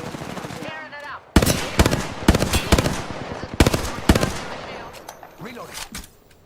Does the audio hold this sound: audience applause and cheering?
no